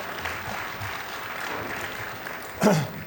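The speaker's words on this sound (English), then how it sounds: "That's a clap, that's an applause line." Crowd at an Alaska Federation of Natives convention applauds a governor's line during a speech, a soft, diffuse patter of clapping with a brief louder burst near the end.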